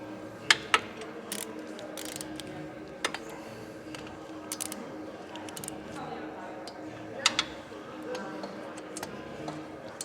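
A hand ratchet snugs down bolts on a Harley-Davidson Stage IV 131 Screamin' Eagle engine being built in a shop, giving faint intermittent clicking bursts of pawl ticks with quiet gaps between them.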